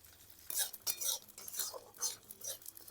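Coriander, cumin and garam masala frying in a pan for a light puti fish curry, with bursts of sizzle and clinking stirring utensils coming and going in short, close waves.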